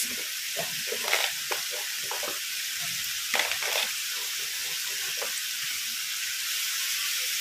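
Sliced carrots added to a hot pan with tomatoes, crackling in a steady close sizzle with scattered sharper pops and stirring scrapes.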